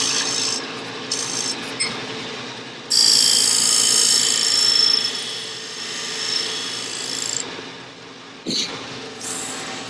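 A woodturning tool cuts a groove into a spinning lidded box on a lathe, giving a steady close rasping scrape with brief pauses and a louder, brighter cutting stretch partway through.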